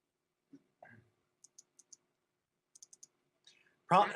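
Light computer mouse clicks on cards in the Star Realms game, two quick bursts of four crisp taps each, close but soft, with brief vocal sounds before and a louder one at the end.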